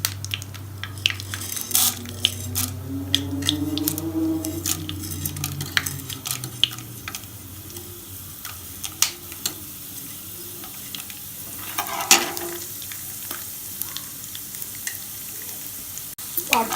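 Mustard seeds, tempering spices, peanuts and dried red chillies fry in hot oil in a pan over a low flame for mango pulihora, a lively crackling sizzle broken by stirring scrapes and clinks, with a low hum fading early on.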